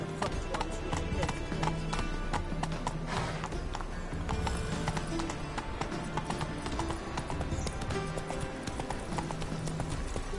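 Roach, Geralt's horse in The Witcher 3: Wild Hunt, clip-clops along in a steady trotting rhythm, hooves prominent and close over a low game ambience with faint background voices.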